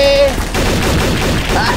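Gunfire in Garry's Mod TTT: a steady, busy volley of shots runs throughout at close range, with a brief tonal beep near the start and crowded game noise beneath.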